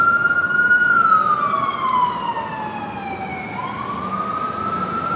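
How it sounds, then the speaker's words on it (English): Emergency vehicle sirens wail through a Brooklyn street, one loud near siren sweeping slowly down and back up in pitch over a steady traffic rumble, with no voices. "I'm gonna let the Brooklyn Sirens finish"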